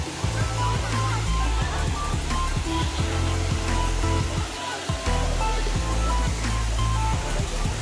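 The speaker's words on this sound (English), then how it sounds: "This is the waterfall." Kabbinale waterfall near Hebri in Udupi district, Karnataka, rushes in a steady, loud roar of falling water that runs continuously throughout, with faint voices occasionally heard over it.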